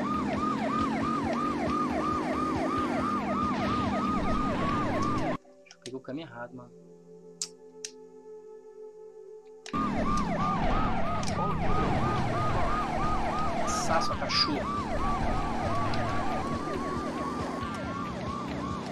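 Wailing police sirens during a car chase in Driver 2, loud and continuous with warbling tones. They cut out for a few seconds and then return, and someone talks over them.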